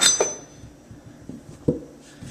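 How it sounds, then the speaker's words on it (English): A big butcher knife chops the ends off sweet potatoes on a cutting board, giving two distinct knocks with quiet pauses between them. "I like this big butcher knife because it's super easy. You just basically chopping off the ends."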